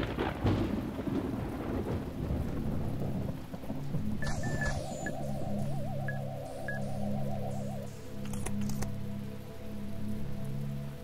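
Rain and thunder in the video game The Talos Principle form a low, rumbling storm bed with steady rainfall, while faint electronic tones and a warbling sound drift over it.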